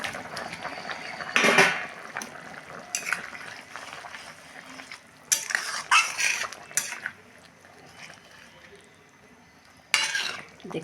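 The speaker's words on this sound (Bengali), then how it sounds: "ঝোলটা ফুটে উঠেছে, এখন ডিমগুলো ছেড়ে দেবো।" Duck eggs dropped into a simmering curry in a home kitchen, with several short bursts of clattering pot-and-utensil stirring separated by quieter gaps, close and fairly loud.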